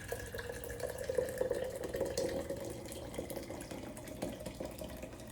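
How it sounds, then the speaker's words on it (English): Quiet trickle of carnitas cooking juice from an Instant Pot being poured into a jar, a soft continuous gurgling splash heard close up without talk. "So I'm gonna pour the juice into this jar."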